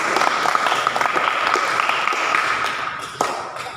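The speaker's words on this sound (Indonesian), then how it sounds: "tepuk tangan untuk kelompok 3" A university engineering class applauds a student group after their presentation, brisk clapping from a roomful of students with a few sharper claps standing out, easing slightly toward the end.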